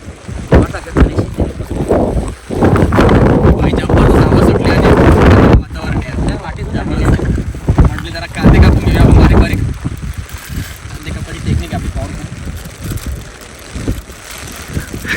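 Strong wind buffets the microphone at a hilltop in open nature, a loud roaring rush in heavy gusts that eases in the last seconds, with people talking under it.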